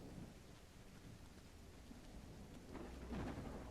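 Steady rain hisses throughout a stormy scene in the video game Call of the Elder Gods, with a deep roll of thunder building near the end; no one speaks.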